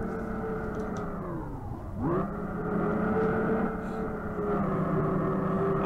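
Car engine in the racing game Revhead revving hard at launch, a steady loud drone that dips briefly around a gear change and then climbs again, continuous with no talk over it.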